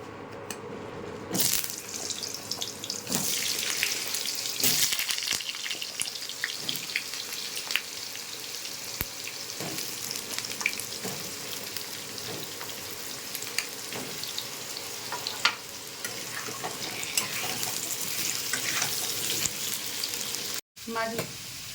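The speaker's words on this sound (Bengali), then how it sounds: "একটু রিফাইন তেল দিয়ে দিচ্ছি। আলু দিয়ে দিচ্ছি, আলুটাকে ভেজে নিই।" Potatoes fry in refined oil in a karahi with a loud, continuous sizzle lasting about twenty seconds. Scattered clinks and scrapes of stirring break through, and a brief cut comes near the end.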